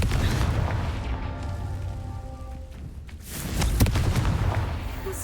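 Booming spell blasts from the Confringo fire spell in the video game Hogwarts Legacy, a dull explosive thud near the start and another louder burst around the middle, over constant rumbling game ambience.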